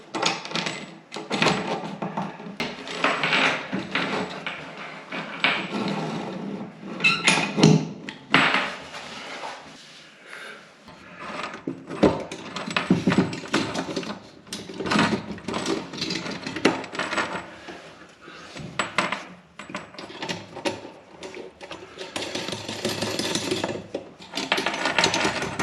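A bathroom tap fitting tightened from underneath a marble basin top, giving a long run of metallic clinks, scrapes and ratcheting clatter, close and moderately loud with brief pauses.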